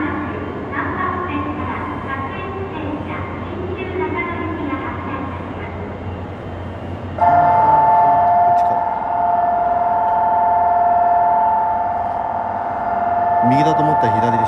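A Nagano Electric Railway Nagano Line train at Nagano Station in winter, with a steady rumbling underground run that shifts into a louder, sustained electric whine partway through, heard up close with a voice talking faintly beneath it.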